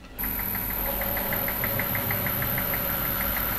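A homemade hit-and-miss stationary engine runs at 380 RPM, starting almost at once and holding a steady, even chugging beat with a constant high whine, loud and close, no talk.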